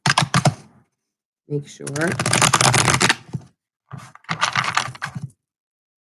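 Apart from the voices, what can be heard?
shuffling tarot cards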